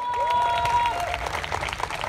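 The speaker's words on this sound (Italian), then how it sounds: "Un applauso non l'abbiamo sentito in modo adeguato, lo possiamo ripetere per favore" Crowd in an Italian piazza applauding the flag-throwers of Montemurlo, a dense sustained clatter of clapping with a brief whistle-like tone early on.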